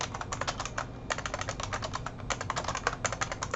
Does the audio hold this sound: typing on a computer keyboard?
yes